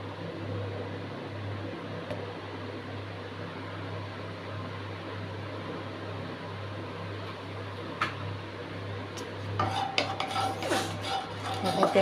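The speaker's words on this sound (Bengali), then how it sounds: "তারপর তেলটা একটু নেড়ে নিলাম," Oil being stirred in a kadai (wok) for upma: a quiet kitchen with a steady low hum, broken by faint metal scrapes and clinks of the spoon against the pan near the end.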